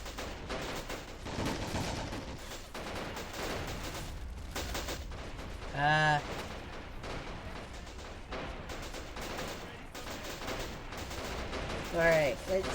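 Machine-gun and rifle fire crackle in the Army Men of War video game, a continuous mix of battle gunfire with louder bursts near the middle and end.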